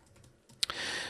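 Quiet, close keystrokes tap on a computer keyboard while a line of C# code is typed, followed by a sharper click and a burst of steady hiss.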